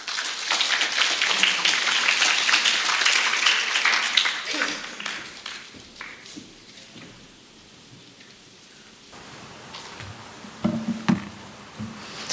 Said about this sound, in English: Please welcome him to the stage with warm applause